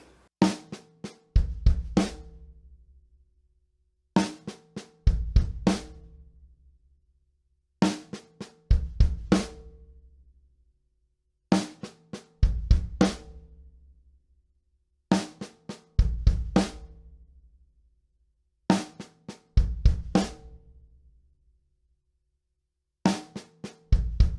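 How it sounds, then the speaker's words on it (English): Drum kit six stroke roll with double bass drum kicks in place of the right hand double, played very slowly in evenly spaced bursts of strokes with deep kicks, separated by silences. "substitute a double bass drum hit in the place of that right hand double"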